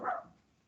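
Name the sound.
dog barking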